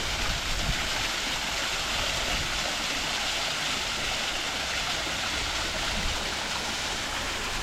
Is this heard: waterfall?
yes